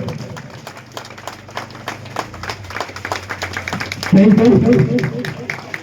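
Crowd applause greets a ribbon-cutting that opens a school science and craft exhibition at a silver jubilee celebration: steady scattered clapping from many hands, growing louder and denser near the end, with voices over it.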